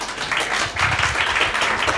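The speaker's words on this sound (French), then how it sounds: "sous vos applaudissements" Studio audience applause on a French television show about blogs, a dense, loud, continuous wash of many hands clapping for the whole short stretch.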